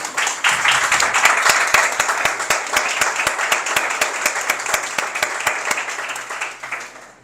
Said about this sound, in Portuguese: Aplauda Jesus por essa palavra